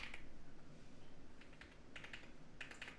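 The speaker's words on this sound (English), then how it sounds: "My typing skills today are questionable." Fingers type on a computer keyboard, close and quiet, with short bursts of clicking keys separated by brief pauses and no talking.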